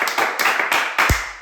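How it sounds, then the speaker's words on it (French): Several people clapping in a steady, rhythmic beat, loud and close, with a low thump near the end. "Petite acclamation à Jésus."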